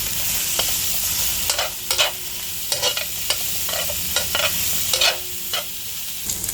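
Pork sizzles and fries in a pan in a home kitchen while a utensil stirs it, with steady crackling broken by repeated scraping strokes, close and fairly loud.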